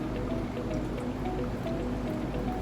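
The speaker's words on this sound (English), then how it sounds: "I'm gonna go ahead and add the last bit of water" Water pouring into a slow coffee style carafe during a pour-over brew, a steady trickling and dripping stream that runs continuously at moderate level, with no speech.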